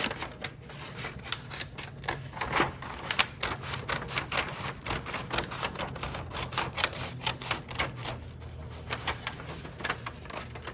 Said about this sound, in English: These are my dull scissors, and they're showing.